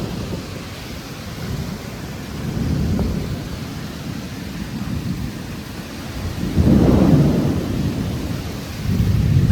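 Downpour from a Kalbaishakhi nor'wester storm in Murshidabad, West Bengal, hisses constantly as low thunder rolls in several waves, one louder rumble late on, a full storm close around the listener.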